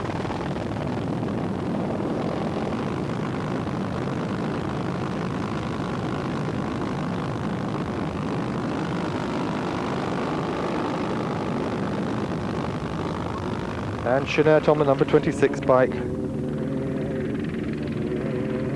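Helicopters fly over the 1992 Pharaohs Rally Raid in Egypt, a steady, loud rotor and engine drone running throughout, with someone commentator speaking briefly near the end.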